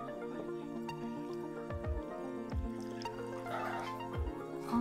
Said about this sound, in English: Stick that in the cup and submerge it in 8 ounces of water.